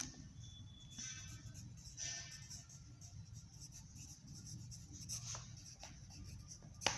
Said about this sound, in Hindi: तो देखिए यहाँ पर लिखेंगे औपचारिक पत्र अपना